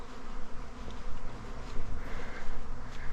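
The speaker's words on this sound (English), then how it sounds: "We've got swarming bees, if you can hear that and see that." Bees swarming out of a house loft, a dense, steady buzzing hum of many insects filling the air throughout, close and fairly loud with no talking.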